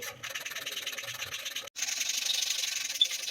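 Steady abrasive scrubbing of a toilet with a pumice stone, a harsh rasping rub that pauses briefly and then resumes more strongly, close by and continuous.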